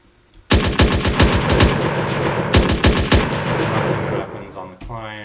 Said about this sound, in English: If I fire my weapon on the server,